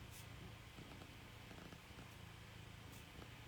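A cat purring close by, a faint, continuous low rumble that stays steady with no voices.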